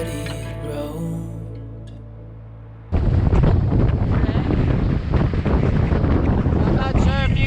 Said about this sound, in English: It's a little windy. I think we have a little bit of wind.